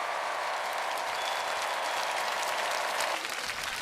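A crowd claps in a dense, steady round of applause at a debate, fairly faint and distant, holding evenly before thinning slightly at the end.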